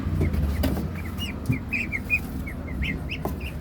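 Muscovy ducks in their pen give short, high chirping and peeping calls, scattered and moderately close over a low steady background hum.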